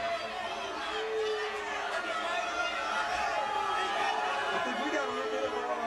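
A boxing arena crowd murmurs and grumbles in discontent, a steady diffuse chatter of many voices that runs beneath a commentator's talk throughout.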